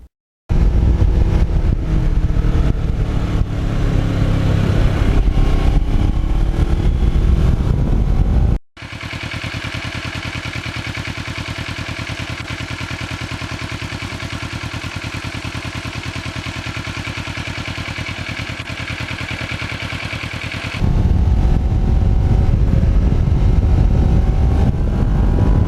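A Kawasaki Ninja motorcycle engine runs loud and close, holding a steady droning tone that shifts to a smoother, different pitch partway through before returning to the harsher running note.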